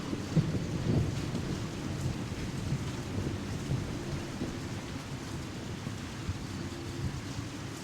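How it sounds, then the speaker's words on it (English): Steady rain falls with low rumbling thunder rolling in the background in the video game Hidden & Dangerous Deluxe, the rumble heaviest early on and fading into a continuous wash of rain. "With those thunderclaps going on, I just might be able to shoot without raising the alarm."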